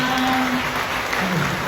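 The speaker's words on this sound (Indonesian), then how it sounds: "Tepuk tangan dong buat Allah." An audience at a religious talk led by an Ustaz bursts into brief, dense applause, a steady wash of clapping that lasts under two seconds.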